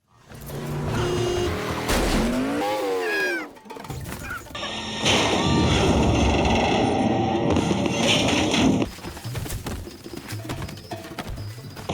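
Jeep crashing in a jungle action movie scene, with loud, dense crash and impact noise at mid-clip, sweeping squeals or whistles before it and busy clattering debris afterward.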